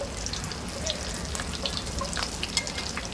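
Chicken Russian cutlets fry in hot oil with a steady, close crackling sizzle and scattered pops throughout, with no talking.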